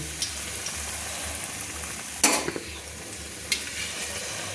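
Cauliflower pakoras fry in oil, sizzling steadily in a pan, with a couple of sharp louder bursts as pieces drop in and crackle up close.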